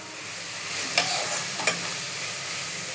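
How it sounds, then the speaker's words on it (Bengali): Salt, turmeric, Kashmiri chilli powder, coriander and cumin powder frying in a pan with a little hot water for chicken dalia, a steady close sizzle with two brief stirring scrapes. "আমি মশলাটা কষিয়ে নেব"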